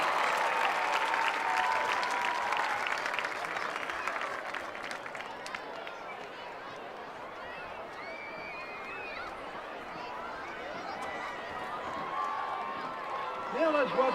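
Applause and crowd noise at a Conway Wampus Cats versus Bentonville high school football game, greeting the kindergarten and first grade mini cheerleaders; a loud burst that fades into softer crowd murmur and scattered shouts across the stadium.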